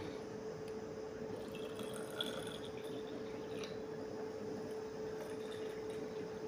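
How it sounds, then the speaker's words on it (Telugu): Water is poured into a vessel for a sweet drink made with crushed rock sugar, a soft continuous trickle with faint splashes, quiet and close, no voices. "ఇప్పుడు వాటర్ పోసుకుంటాం."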